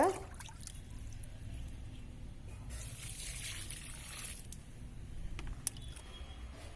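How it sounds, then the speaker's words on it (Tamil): A buttermilk and asafoetida solution trickles and pours onto the soil around a lemon plant's roots, making a soft, continuous gurgle with a few faint clinks and drips, close by and quiet, with no speech. "இந்த மாதிரி வேர் பகுதியில் ஒரு அரை லிட்டர் கரைசலை ஊற்றி விடுங்க"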